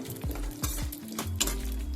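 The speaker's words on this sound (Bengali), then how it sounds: "এবার আমি এর মধ্যে দিয়ে দেবো কাজু বাদাম আর কিশমিশ আর এবার ভালো করে এটা ভেজে নেব" Cashews and raisins fry in ghee in a pan, a soft sizzle under repeated scraping strokes of a spatula or spoon against the metal, several quick stirs close by.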